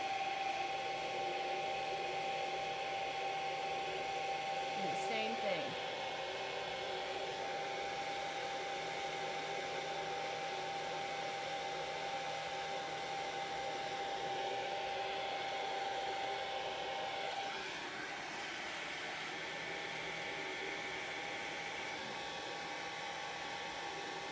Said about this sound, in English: pick up your hairdryer